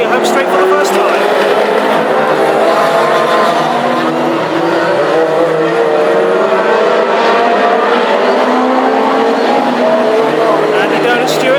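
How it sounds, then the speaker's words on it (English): Classic hot rod race cars roar down the home straight at Northampton in a heat race, a dense wall of loud engine noise with rising and falling pitches as several cars pass, under constant announcer commentary. "Here's the charge of the high graders down the home straight for the first time."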